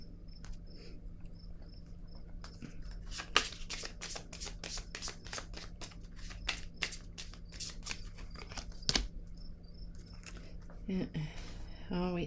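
A card is drawn from a deck: crisp papery flicks and slides repeat in a quick irregular run close to the microphone, with a brief soft voice near the end.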